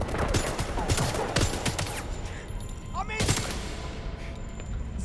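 Rapid video game gunfire, dense bursts of shots crackling early on, then a few louder single cracks, with a voice talking over the action.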